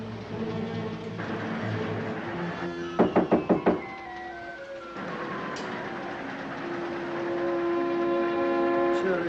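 Five quick, sharp knocks rap on a train compartment door aboard a moving train, standing out over the steady rumble and hum of rail travel.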